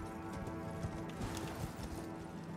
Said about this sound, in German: Na, wir reiten mal weiter.